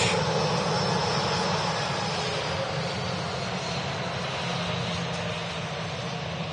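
A Ryanair jet aircraft at Manchester Airport, a steady broad engine roar holding at moderate loudness and slowly fading slightly, heard alone without talk.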